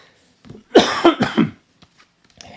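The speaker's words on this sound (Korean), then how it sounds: "가래 때문에 약간 기침이 나오는 경우도 있어요" A single burst of harsh coughing, close and fairly loud, with a few short hacks in quick succession followed by quiet breaths.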